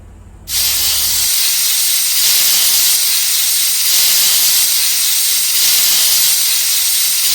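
A pressure cooker of mutton gravy releases a loud, continuous hissing whistle of steam, rising sharply after a brief quiet start and holding steady near and alone.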